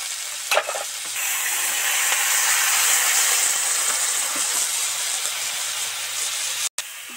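Water poured into a hot pan over fried spices boils and bubbles with a loud, steady, close hiss that holds almost unbroken, cutting out abruptly near the end.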